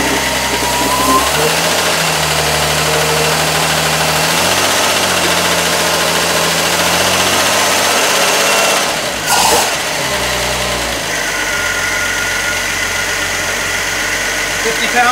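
Ford 200 inline-six engine with a defective head replaced, running steadily close up, a medium engine drone with light revving and a faint ticking texture from the lifters, briefly interrupted by a clatter midway.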